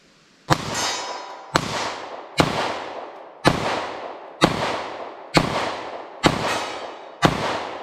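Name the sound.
9mm pistol shots with standard pressure Gold Dot ammunition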